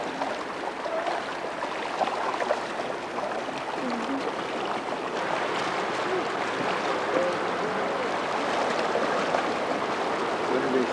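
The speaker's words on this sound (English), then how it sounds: "Look at the waterfall up there." A waterfall up the slope in Utah pours as a steady, distant broadband rush of water, even and continuous with no voices over it.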